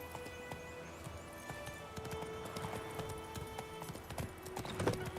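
Horse hooves trotting in The Witcher 3, a steady rapid clip-clop rhythm close by with occasional clatter, over a faint ambient background.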